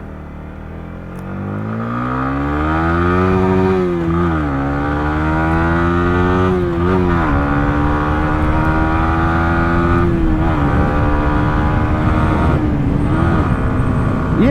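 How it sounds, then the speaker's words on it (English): A Yamaha MT-125 motorcycle pulls away and rides off, its small single engine revving up through the gears in rising and falling sweeps, loud and close throughout, with no talking. "So that is everything about the Yamaha MT-125. We will take it out now for a little spin"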